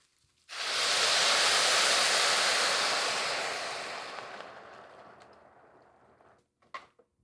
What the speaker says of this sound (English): And in goes the vegetable broth.